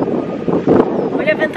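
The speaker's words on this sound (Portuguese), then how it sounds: "Mas agora tá ventando muito." Strong wind gusting outdoors under a darkening sky, rough buffeting rumble against the microphone that swells and fades, with a person speaking over it.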